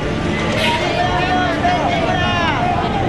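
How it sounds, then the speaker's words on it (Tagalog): Busy street market crowd in Divisoria, Manila: a continuous, loud wash of overlapping voices and general hubbub, with scattered calls rising above the steady din. "nagpapakalunod sa ingay ng Divisoria"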